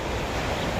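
Sea waves washing onto the beach at San Felipe, Zambales, a steady broadband roar of surf close by with wind rumble on the microphone, no talking.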